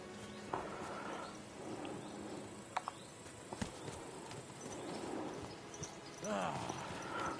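Horse hooves clip-clop at a walking pace in the video game Kingdom Come Deliverance 2, soft and steady beneath a light ambient bed, with a voice speaking briefly.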